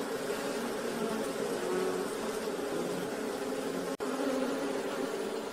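Honey bees buzzing around an open hive during frame work, a dense, steady drone of many insects close by, continuous and even, with one brief click partway through.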